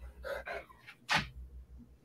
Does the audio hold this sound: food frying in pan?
no